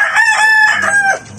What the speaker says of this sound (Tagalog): ito pala yung kulungan ng mga lalaki kong manok.